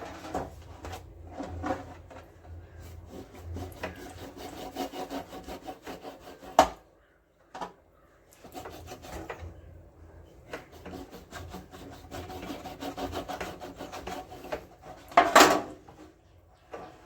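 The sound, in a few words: knife cutting deep slits into pomfret fish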